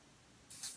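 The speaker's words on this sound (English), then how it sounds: "What I'm going to do instead, I think, is spray onto my hand and then pick the brush" Dior Airflash spray foundation misted from the can onto a hand, a short faint hiss lasting about a third of a second after a quiet pause.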